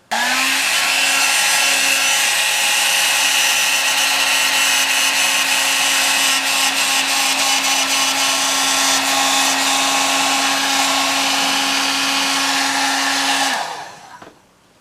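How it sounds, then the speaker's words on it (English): A heat gun blows steadily while old tape is pulled up from a 1970s Kawasaki H1 motorcycle during striping work; loud, continuous whirring hiss alone, cutting off near the end. "Always a good idea to use heat when you're pulling up tape."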